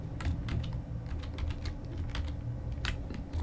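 Steady typing on a computer keyboard while working in the Nano text editor: rapid, uneven key clicks over a constant low hum, close and fairly quiet, with no one speaking.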